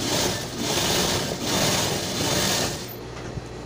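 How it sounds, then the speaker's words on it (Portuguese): A sewing machine stitches fabric for a simple door weight in a steady, continuous mechanical whir with slight pulses, close and fairly loud, ending in a brief stop. "Mas eu vou passar mais uma costurinha,"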